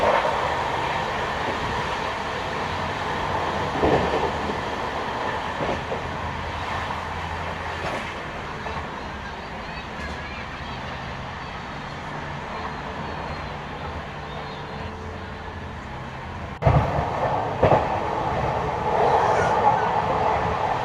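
A steady, loud rumble comes from the new LHB coaches of the Sealdah-Ballia Express running at about 110 km/h past Bandel, with occasional rail clacks and a sharper knock near the end.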